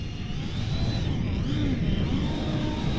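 A Dynam Gloster Meteor twin 70mm electric ducted-fan RC jet glides past on low throttle, a steady whooshing whine with a gently shifting pitch over outdoor wind noise.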